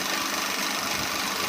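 Electric sewing machine stitching a ladies' pant, a continuous dense whirring drone with a fast mechanical chatter, steady and close for the whole short stretch.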